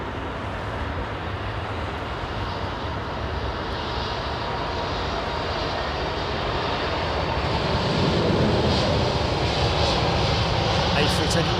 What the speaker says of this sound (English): What aeroplane is it, Linda, as well? Is it a 320